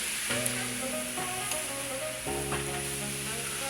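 Fried chicken sizzling in a pan as a cheap Thanksgiving feast cooks, a steady loud crackle and hiss with a few sharper pops throughout, no talking.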